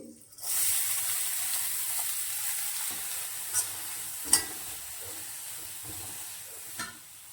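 Sliced onion and green chili hit a spoonful of hot oil and fry with a steady, close sizzle, a few sharp clinks of a spoon against the pan cutting through, no one speaking.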